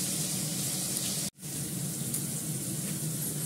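Fish fries in a pan with a dense, steady, close crackling sizzle that cuts out for a split second partway through, then resumes just as strongly, with no talking.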